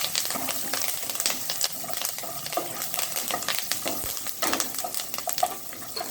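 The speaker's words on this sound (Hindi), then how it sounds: "और हम इसमें ये करी पत्ता डाल देंगे। इसको भी 1 मिनट भूनेंगे।" Curry leaves roasting in a pan with peanuts for a diet murmura namkeen, giving a steady close crackle and sizzle broken by scraping stirs, with no talking.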